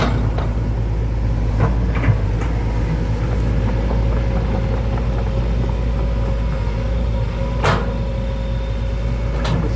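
A bulldozer pushes piled wet soil at a pond excavation site alongside a Hitachi ZX120-3 excavator. A steady, loud diesel engine drone runs throughout, with occasional clanks and knocks from the machinery and no speech.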